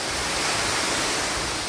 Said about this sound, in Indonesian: Luar biasa air terjun ini